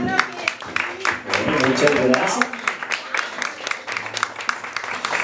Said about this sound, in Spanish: ¿Será que mariachi se merece un aplauso?